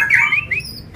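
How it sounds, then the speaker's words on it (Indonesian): A green leafbird (cucak ijo) at a bird kiosk gives a short, bright whistled squawk with a quick rising chirp, close and clear over faint background murmur. "ini Cak Ijo udah bunyi semua"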